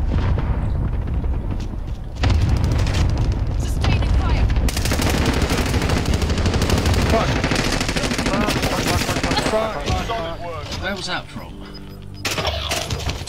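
Video game gunfire rattles in rapid automatic bursts and sustained volleys, loud and close, mixed with voices and game sounds throughout.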